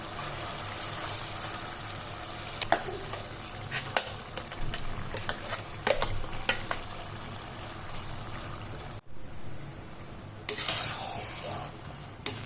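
Ground onion paste fries in a pan for onion thokku. A continuous close sizzle runs throughout, with scraping stir strokes at intervals and a short quiet gap near the end.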